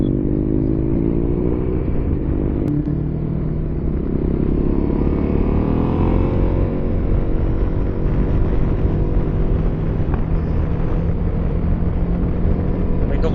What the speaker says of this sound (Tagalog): May Ducating dadaan na. Mabilis.